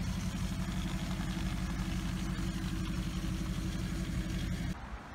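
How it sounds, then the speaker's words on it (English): A fully warmed-up Maserati engine runs with a steady, loud low rumble and a faint whine riding on top, holding constant for several seconds before dropping off abruptly near the end. "the car has this noise when the vehicle's completely warm"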